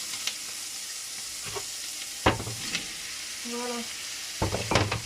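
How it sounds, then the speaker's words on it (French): Courgettes searing with lardons in a hot pan, a soft steady sizzle under stirring clatter and a few brief spoken words. "On va commencer à les saisir un peu, comme on dit. Dans le lardon."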